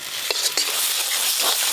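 Mustard paste and dried red chili paste frying in oil while being stirred, a dense close hiss of sizzling with a couple of sharp scraping strokes early on, no talking.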